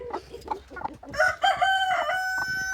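A rooster crows loudly and close by, a long drawn-out call preceded by a few short clucks.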